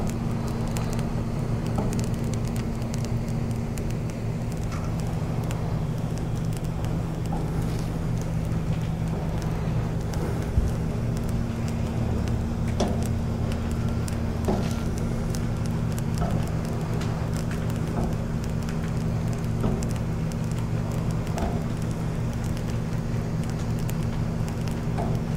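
A GFP 200 Series laminating machine runs steadily while feeding printed vinyl on a carrier sheet through its rollers, giving a constant close mechanical hum and drone with faint clicks and no talking.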